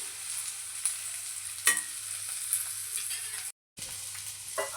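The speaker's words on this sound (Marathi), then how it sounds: "भेंडी बऱ्यापैकी फ्राय झालेली आहे पण तिला आणखीन आपण एक पाच मिनटं आणखीन फ्राय होऊ देऊ" Okra (bhindi) fries in a pan with a continuous close sizzle, broken by a few clinks and scrapes of stirring and one brief dropout near the end, with no voices.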